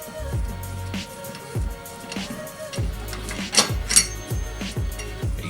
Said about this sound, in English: We can take it off with the spanner wrench.